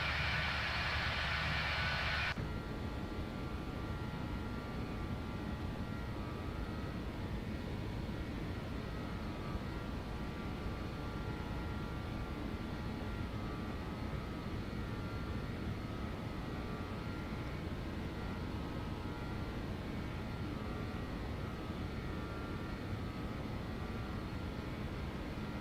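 JustFlight BAe 146 jet engines in X-Plane 11 during a climb: a steady, loud, broadband roar with a droning whine, continuous for the whole stretch after a brief change in tone at the start, with no talking.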